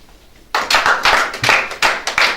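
A church congregation breaks into loud, sustained applause acclaiming Jesus, a dense wash of many hands clapping that starts abruptly and rolls on in uneven surges, with no talking.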